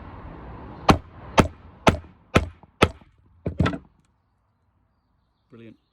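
A stud on a custom motorcycle helmet is hammered so its edge folds over. Six firm, close strikes land at a steady pace and are followed by quiet. A brief voice is heard at the very end.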